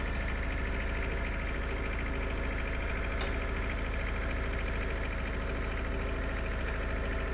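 Tractor engine in Farming Simulator 2013, a steady loud idling rumble with a constant throb and no variation in pace.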